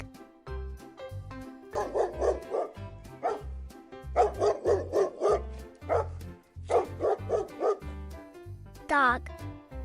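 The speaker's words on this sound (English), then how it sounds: "Dog." A dog barks in repeated quick bursts, several clusters of loud, close yaps and woofs spread across the clip with short gaps, ending in a higher whine-like call.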